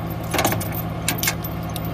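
Metal chains and strap hardware clink and jangle in a tow truck's toolbox, a few quick rattling bursts close by over a low idling engine hum.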